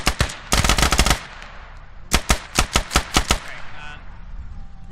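Video game gunfire in close-quarters combat in Al Basrah: a long automatic burst, then a rapid string of separate loud shots, followed by quieter background noise.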